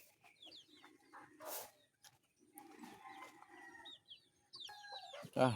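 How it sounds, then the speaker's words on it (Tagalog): Chickens fighting squawk and cluck in agitated bursts with flapping and scuffling, ending in a loud sharp screech; no one speaks. "Nag-away-away na naman ating mga manok."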